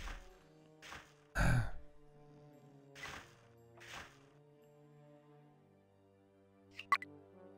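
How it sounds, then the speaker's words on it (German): Snoring from a character in the Die Siedler 4 strategy game: a few drawn-out, breathy snores at uneven intervals, one louder than the rest, fairly quiet against a soft game background, with a sharp click near the end. "Irgendwo schnarcht hier doch einer"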